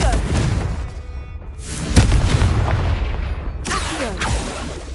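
Blasting spell Confringo going off in Hogwarts Legacy, a few loud booming bursts with thuds and crackling tails, spaced through a busy, steady layer of game noise.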